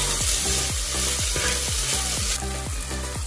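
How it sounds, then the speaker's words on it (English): Chopped tomatoes for a sardine curry are stirred in a hot pan: a rhythmic series of scraping strokes, roughly two per second, over a constant frying sizzle, close and fairly loud with no talking. "just give it a nice stir."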